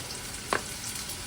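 Onion fries in a pan with ground ginger, garlic, turmeric, coriander, cumin, chili powder and salt for a baim fish curry. A soft, steady sizzle runs throughout, with one brief stirring scrape midway.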